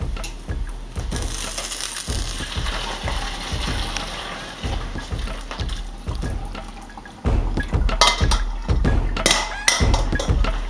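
Strained sweet potatoes mashed in a pan, repeated rhythmic squishing thuds and scraping of the masher against metal, close and steady throughout.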